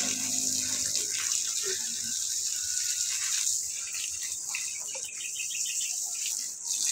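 Water flows strongly in a steady, close, broadband rush, with light rattling early on and no voices.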